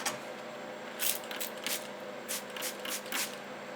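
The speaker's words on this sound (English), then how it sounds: "I'm going to spray some water on now." Water is sprayed onto a rain sensor in short hissing bursts, several quick spritzes at irregular intervals, faint and close over a quiet hum.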